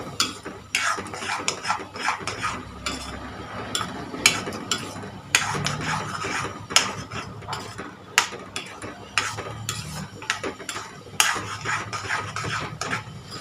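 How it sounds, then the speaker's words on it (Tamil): Onion, tomato, coconut and masala being stirred and sautéed in a pan, with repeated scraping clinks of a spoon against the metal vessel and a soft sizzle underneath, close and steady without talk. "இந்த மசாலாவை போட்டு இதையும் கொஞ்சம் நல்லா நம்ம வதக்க ஆரம்பிச்சிடலாம்."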